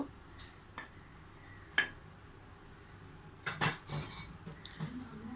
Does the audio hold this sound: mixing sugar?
yes